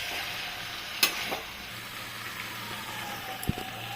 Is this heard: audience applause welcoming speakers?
no